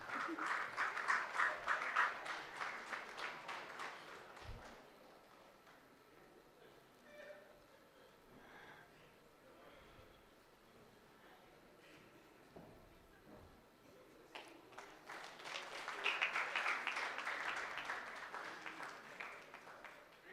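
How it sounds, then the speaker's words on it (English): Conference attendees applaud at a national plenary session, with rounds of clapping at the start and again near the end and quieter talk between them. "A huge round of applause, please."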